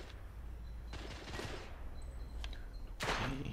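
Pistol shots ring out in The Order 1886 video game, a few sharp reports spaced apart over a low steady rumble, the last one loudest near the end.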